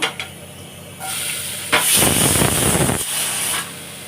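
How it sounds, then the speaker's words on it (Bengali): Potatoes drop into hot oil in a home kitchen, and a loud, steady sizzle bursts up close and fades a little. No one talks. "তেলটা গরম হয়ে গেছে, এবার আমি আলুগুলোকে তুলে দেবো"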